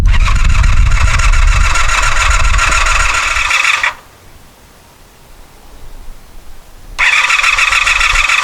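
Starter cranking on a 1984 Honda 500 Interceptor motorcycle engine with freshly revived carburetors, a loud steady whirring grind for about four seconds, a pause of near silence, then the cranking resumes loudly at the end.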